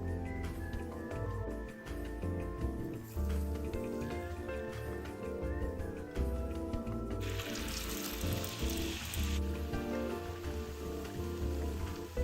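Mung bean prawn crackers deep frying in hot oil, a dense continuous crackling bubble like heavy rain, steady and close, with a tonal music-like hum underneath.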